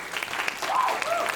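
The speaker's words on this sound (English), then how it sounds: "can we get an extra applause for Kevin for putting this together?" A crowd at an esports event panel breaks into applause, a brief dense patter of many hands, with a voice or cheer rising over it near the middle.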